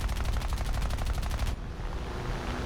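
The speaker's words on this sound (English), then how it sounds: "We're down to 50 cals only" Rapid .50 caliber machine guns hammer away from an aircraft in War Thunder, a fast steady burst of loud repeating shots lasting about a second and a half before cutting off into engine drone.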